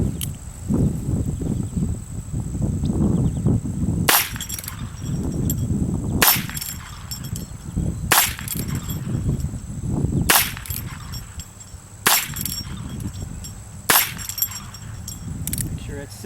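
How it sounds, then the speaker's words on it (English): Sharp gunshots from a Colt Frontier Scout pistol ring out six times at roughly two-second intervals, loud and close, with low rumbling background noise between shots. "Let's shoot it a few more times."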